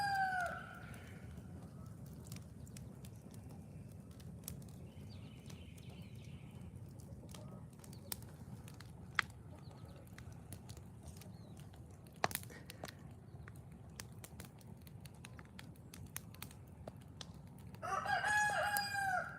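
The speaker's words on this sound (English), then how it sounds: "Yeah, there's the rooster." A farmyard rooster crows twice, once at the start and again near the end, fairly distant, with quiet outdoor ambience and a few faint clucks and knocks between the calls.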